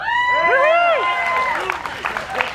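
Outdoor political rally crowd at a bus tour stop cheers with whoops and whistling shouts, a brief loud burst of voices that fades into scattered clapping and crowd noise.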